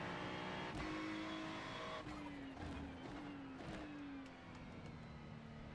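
Engine of a car in a racing video game, driven slowly: a sustained motor drone with shifting pitch, brief revving sweeps and a few sharp clicks, fairly quiet with no talk.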